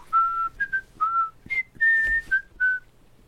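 A person whistles a short melodic tune of about eight clear notes, some held and some quick, close and alone with no talk.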